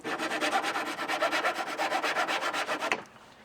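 A handsaw cuts through a wooden board in quick, evenly spaced rasping strokes, close and loud, for about three seconds before stopping abruptly.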